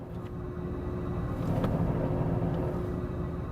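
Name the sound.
Porsche 911 S/T engine with clutch disengaged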